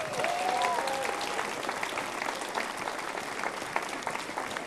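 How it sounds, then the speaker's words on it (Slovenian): A crowd at a welcome-home reception for a traveler gives a big round of applause, steady and dense clapping that carries on evenly throughout, with a brief whistle-like tone near the start. "tako da mislim, da si tudi ta Nizozemec Richard zasluži en velik aplavz"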